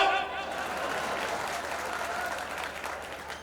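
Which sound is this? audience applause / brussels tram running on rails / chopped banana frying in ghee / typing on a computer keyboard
audience applause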